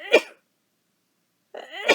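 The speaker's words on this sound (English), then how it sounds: "I need to sneeze though." Two sharp bursts, a short one at the start and a longer wind-up and explosive release after a pause, like a sneeze followed by another.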